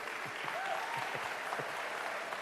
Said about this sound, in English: Another round of applause for our mayor, please.